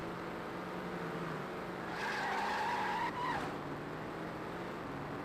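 A car power-slides into a corner in Test Drive Overdrive on Xbox: a sustained tire squeal rises for about a second and a half over a steady engine drone, then cuts off abruptly.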